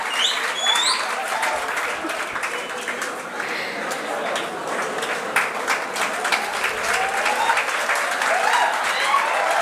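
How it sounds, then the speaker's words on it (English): Sustained audience applause for chef Kunal Kapur at a hotel management institute's student induction day, dense and steady with scattered cheers and faint voices over nearly ten seconds. "A round of applause for everyone."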